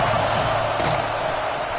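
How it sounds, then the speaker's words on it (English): Florida Gators home stadium crowd roaring on a third down, a loud sustained wall of noise with a brief sharper burst near the middle. "This crowd unhinged, trying to make sure the Gators don't back down on 3rd down."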